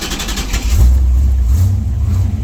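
A car engine revs up as the throttle is opened after a rough start, a loud, close low-frequency roar that swells, eases, then climbs again across two and a half seconds.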